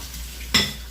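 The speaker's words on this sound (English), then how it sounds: "so you can go ahead and actually clean up some of these dishes." Dishes and cutlery are handled in a home kitchen, a low background hum broken by one sharp clatter of crockery midway, then quieter rattling that fades back into the room noise.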